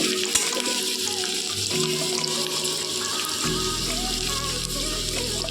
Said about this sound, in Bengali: পেঁয়াজটাকে সামান্য একটু ভেজে নেবো যাতে কাঁচা ভাতটা চলে যায় সে অবধি ভাজবো